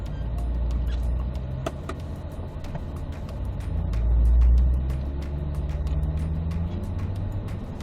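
C8 Corvettes roll out onto a racetrack together in a steady, low engine rumble that swells briefly, with scattered small clicks over a constant drone.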